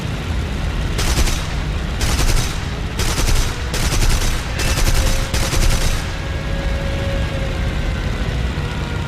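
Rapid machine-gun bursts from aircraft guns aimed at a Swordfish torpedo bomber in the War Thunder air combat game: five or six loud, evenly spaced bursts over a steady engine drone, then the drone continues alone.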